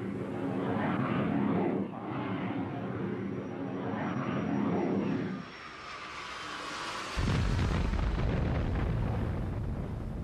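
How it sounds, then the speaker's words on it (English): Israeli aircraft attack the USS Liberty: roaring aircraft engines build and fade, then a heavy explosive blast and sustained rumbling fire, loud and dense throughout. "At 2 o'clock that afternoon, Israeli planes mounted an attack."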